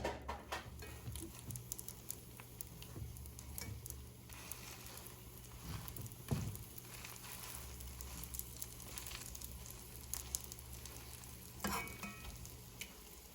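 Open-faced croque monsieur frying in a pan, a soft, continuous sizzle with scattered pops and crackles at low volume, and no voices.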